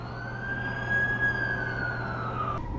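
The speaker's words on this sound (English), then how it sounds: "That's the ambulance I called." An ambulance siren wails in a steady, sustained tone that slowly rises and falls, fairly loud and close, before cutting off abruptly near the end.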